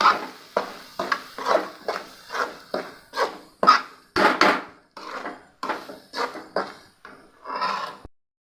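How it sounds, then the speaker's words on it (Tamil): Spoon or ladle scraping and knocking against a pot while stirring a goat head meat curry, a series of about fifteen short, fairly close clattering strokes in an irregular rhythm, with no talking. "அடி பிடிக்காமல் கலந்து விடணும்"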